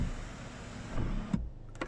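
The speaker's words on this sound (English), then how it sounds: "you've got this electric sunroof, which is glass" Electric glass sunroof on a Mazda CX-5 2.0 e-Skyactiv G MHEV tilting open inside the cabin, a steady motor whir lasting about two seconds with a slight clunk as it stops.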